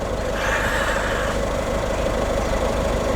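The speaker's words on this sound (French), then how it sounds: "t'as peut-être entendu un moteur de voiture pour le coup" A neighbour's car engine arriving close by, a steady low rumble that runs unbroken and fairly loud for about three seconds, with no voices.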